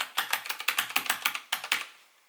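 Typing on an Azio Retro Classic Bluetooth keyboard: a quick run of about a dozen crisp, clacky keystrokes in an uneven rhythm, close up and clear, fading out at the end.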